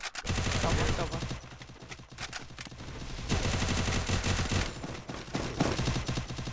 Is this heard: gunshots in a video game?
yes